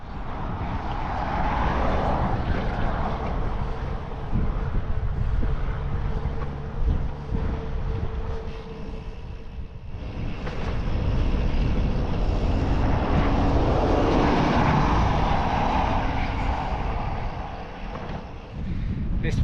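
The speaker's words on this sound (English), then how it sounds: "It's pretty windy today." Strong crosswind roaring against the microphone of a touring cyclist riding a Nebraska highway, a loud continuous buffeting rush that swells and eases over about twenty seconds with no talk.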